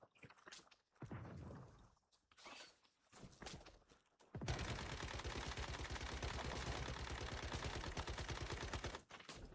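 Gunfire in the video game Once Human: a few scattered single shots and bursts, then a long, loud, unbroken rapid-fire stream lasting about five seconds.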